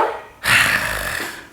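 A house dog outdoors lets out a single short, loud bark or growl burst that trails off after about a second, with no one speaking.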